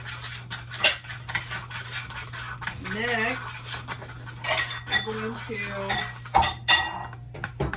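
A utensil clinks and scrapes against a bowl while apple pie turnover filling is mixed, giving irregular metallic taps and stirring sounds at close range, with a voice speaking briefly midway.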